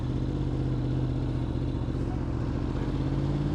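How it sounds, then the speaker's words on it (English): A Yamaha R1M superbike runs steadily with its throttle eased open a little, giving a continuous, fairly loud engine drone with a low, even hum that never dies away. "I want to crack the throttle open just a little bit to see how it feels"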